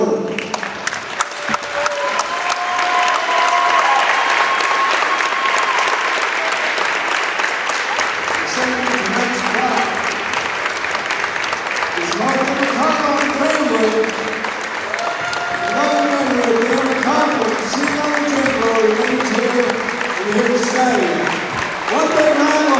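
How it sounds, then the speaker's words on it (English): A basketball gym crowd applauds and cheers for the McConnell family at a court-naming ceremony in Doddridge County, loud sustained clapping filling the hall, with an announcer's amplified voice over it in the second half. "One big round of applause, folks, for the McConnell family."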